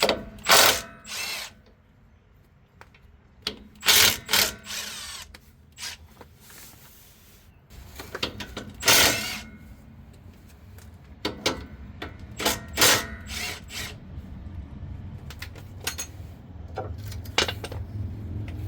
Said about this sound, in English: now for the sway bar mount removal. It's 15mm bolts.